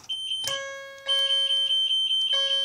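A fire alarm system sounds after a smoke detector is activated, repeating sharp, high electronic tones with a brief gap and an abrupt restart, loud and nearby with no talking.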